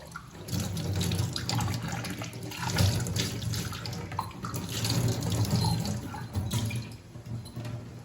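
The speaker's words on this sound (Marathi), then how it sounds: "यांना आपण अगोदर स्वच्छ पाण्याने धुवून घेऊया" Tap water runs and splashes into a sink while small clay pots are rinsed and handled, with clinks and shifting splashes throughout.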